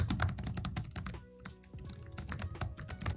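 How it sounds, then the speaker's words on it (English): Rapid keystrokes on the keyboard of an ASUS Zenbook S14 OLED (2024) laptop, picked up by its built-in microphone while recording, clicking in quick irregular bursts with a short pause midway, close and fairly quiet. "this is what it sounds like when I'm typing on the keyboard while recording"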